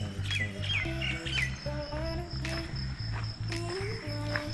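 Koel and hoopoe birds calling outdoors on a walk, with repeated low, evenly spaced hooting notes pulsing steadily under brighter chirps and tweets from other birds, fairly close and clear.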